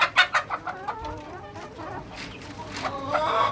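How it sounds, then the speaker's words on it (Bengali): Large hill-breed chickens cluck in quick, close bursts at first, then keep up softer, scattered clucking and calls. "এই পাহাড়ি মুরগিগুলো দেখেন, পাহাড়ি গলাশিলা আছে, বড় মুরগি আছে"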